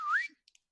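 A person whistles to imitate a cartoon character's blink: a single short whistle glides upward, followed by two tiny, quiet pips, all alone in silence.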